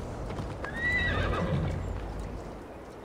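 Hooves of a galloping horse in Assassin's Creed Valhalla clatter steadily through the clip, and a loud neigh rises over them near the middle, with no speech.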